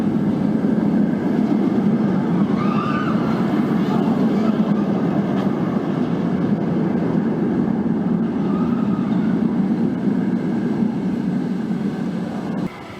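The El Toro roller coaster train runs at Six Flags Great Adventure, a continuous low rumble and rattle on the track with faint higher whines, steady throughout and easing slightly at the end.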